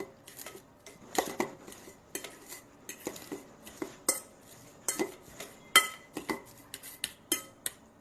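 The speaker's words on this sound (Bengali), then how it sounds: "এই ডিমটাকে ক্রাশ করে নিচ্ছি" Metal cutlery scrapes and taps against a dish while a boiled egg is crushed for an egg sandwich, a run of close, irregular clinks and scrapes with no talking.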